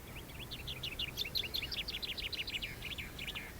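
La Palma chaffinch calls on the Canary Islands: a steady run of quick, bright chirps repeating close together, moderately near, over a low outdoor rumble.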